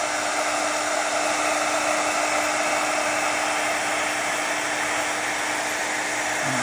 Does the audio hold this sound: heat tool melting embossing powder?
yes